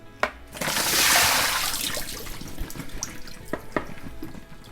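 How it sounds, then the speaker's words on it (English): Tap water runs into a kitchen sink while farm-fresh mushrooms are rinsed of dirt and mud, a bright close gush followed by splashing, dripping and handling sounds. "I'm gonna wash them in water. And we'll just drain them off."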